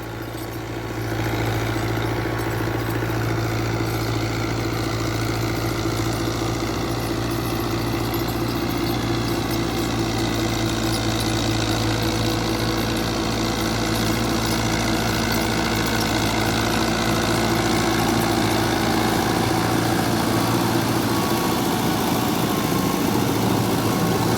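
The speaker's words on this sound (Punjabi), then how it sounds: "ਟਰੈਕਟਰ ਦਾ ਸਾਊਂਡ ਚੈੱਕ ਕਰੋ" A New Holland Fiat 640 tractor of 75 hp idles close by, its engine holding a steady, loud, even rumble with a slight knocking pulse, running continuously with no talk.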